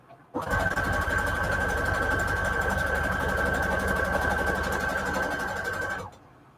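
A sewing machine stitching lace trim onto fabric runs at a steady, fast whirring rhythm for about six seconds, starting and stopping abruptly, close and clear.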